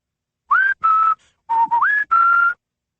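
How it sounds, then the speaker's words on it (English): A person whistles a short little tune of four or five clear, separate notes, with small pitch slides between some of them, close and alone. "I always let out a little whistle to let everyone know I'm home"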